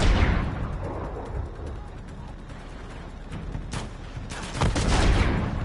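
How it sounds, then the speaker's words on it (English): Gunfire during a firefight in the action game Uncharted 2: Among Thieves, a rumbling blast followed by scattered sharp shots and a louder volley near the end, over steady background noise. "who's shooting at me now?"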